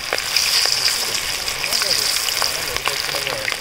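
Marinated baby corn deep-frying in hot oil gives a loud, close, bubbling sizzle with scattered sharp crackles and pops, while a voice talks faintly in the background.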